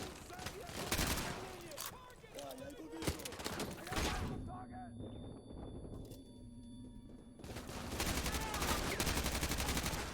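Rapid game gunfire in bursts from a shooter, loud and dense at first, then a quieter stretch before the shooting picks up again, with people talking over it.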